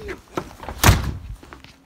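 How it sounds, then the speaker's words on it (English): A single loud thud of a door, near and sharp, with a few quieter knocks and rustles before and after. "I gotta open up the door."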